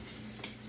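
Steady crackling sizzle of egg rolls frying in hot oil, continuous and close, with no voices.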